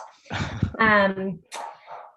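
A dog barks and whimpers in a room, with short yelping bursts and a drawn-out whining tone, close and moderately loud, with quiet gaps between outbursts.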